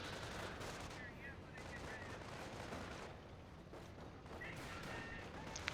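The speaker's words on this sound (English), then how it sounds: "Looks like we got sector artillery being used." Company of Heroes sector artillery on the Eastern Front: a constant, faint, rumbling wash of distant shelling and gunfire, with no talk.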